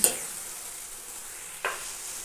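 Crushed garlic goes into a pan of sautéed eggplant and hisses in a soft, steady sizzle, with two brief sharp clinks of a utensil at the start and near the end, close by and without speech.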